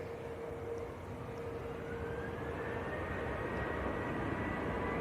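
A Finnair airliner arriving from Helsinki at Manchester Airport, its steady jet engine drone and rising whine heard from a distance, continuous and moderately faint.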